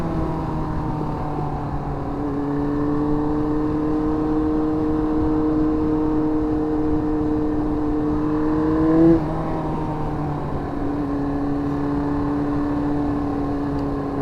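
A vehicle engine holds a steady, loud, tonal drone with a slowly rising pitch while a car takes a turn on a road, then briefly dips and resumes, heard close and continuous from a Yamaha R1 motorcycle ride.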